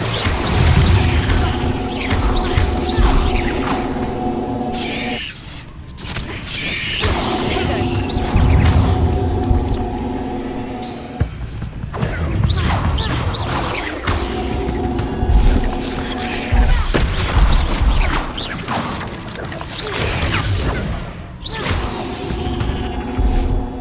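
A fire spell, Incendio, is cast in the video game Hogwarts Legacy, bursting with whooshing, crackling blasts and crashing impacts over a continuous bed of game music and battle noise, repeating in several loud surges.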